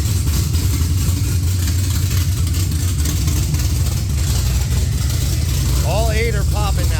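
A Lexus LS 400 V8 engine idling steadily with all eight cylinders firing, a loud, close, even low rumble held throughout, with a brief warbling tone near the end.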